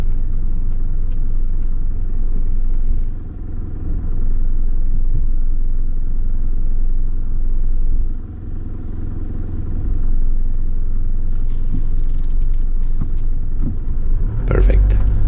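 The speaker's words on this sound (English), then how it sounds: "Let's allow this driver to advance so that he can position the truck for unloading." A truck drives slowly along a half-kilometre unpaved road beside an old railroad, its steady low engine rumble and tyre noise continuing throughout, with a louder jolt near the end.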